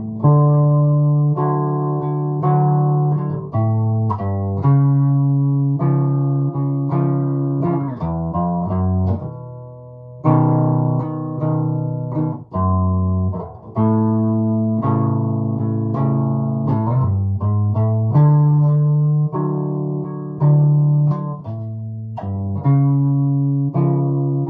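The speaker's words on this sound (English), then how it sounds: "I think it sounds very P-bass to me" Bass guitar played through a 5-watt Fender Champ amp into a 15-inch speaker, a warm round P-bass tone picking a melodic line of sustained notes and quick runs, loud and alone.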